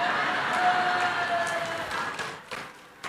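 Church congregation applauding during a sermon, a dense burst of clapping and crowd noise that thins and fades toward the end.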